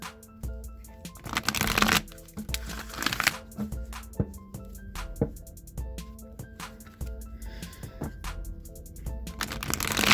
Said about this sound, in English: now I'm just going to shuffle the Wisdom of the Oracle deck